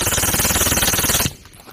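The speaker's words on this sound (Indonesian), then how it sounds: "ini tembakan MP7" An MP7 fires in a rapid, loud, continuous burst of automatic shots that cuts off abruptly after about a second, heard up close.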